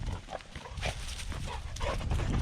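Dogs outdoors make rough barking and snuffling sounds, close and fairly loud, over steady outdoor background noise and without clear talk.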